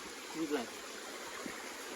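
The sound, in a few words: river stream flowing water on mountain hike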